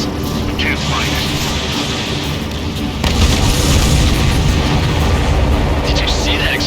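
A supply ship explodes in the Ace Combat 7 flight combat game: a deep, rumbling boom surges midway and swells the dense, steady roar of jet engines, staying loud and continuous to the end.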